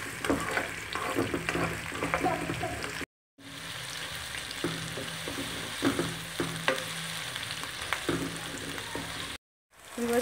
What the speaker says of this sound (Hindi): इसमें मैं डालूंगी दो मीडियम साइज के प्याज, बिस्मिल्लाहिर्रहमानिर्रहीम। इसे हम हल्का सुनहरा होने तक फ्राई करेंगे